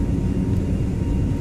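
Airbus A321neo engines in the Toliss flight simulator, a steady low roaring drone that holds level and fairly loud throughout without any speech.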